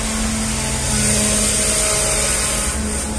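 A car engine idles steadily while an internal engine flush treatment circulates to clear sludge, a constant mid-pitched hum with a faint high whine, close and unbroken throughout.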